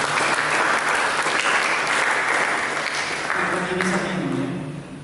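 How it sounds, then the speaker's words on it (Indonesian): A church congregation applauds for a family called to stand, steady loud clapping from a large crowd throughout, with a voice speaking over it near the end. "Mari kita berikan tepuk tangan yang baik."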